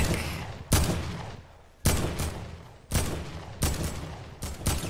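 Bursts of gunfire in Fortnite, four or five loud sharp volleys spaced about a second apart, each trailing off quickly before the next.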